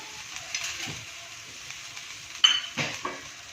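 Gavran kharda, a chili paste with salt, stir-fried in a pan, giving a faint sizzle under a few sharp scrapes and clinks of a spatula against the metal.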